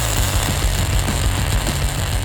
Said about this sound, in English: So let's weld that.